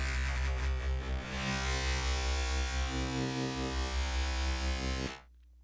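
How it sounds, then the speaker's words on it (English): A harsh, buzzing Reason 6.5 Subtractor synth tone, distorted on the high band only, holds steady for about five seconds, gritty and loud, then cuts off abruptly. "now we've introduced some distortion on just the high band"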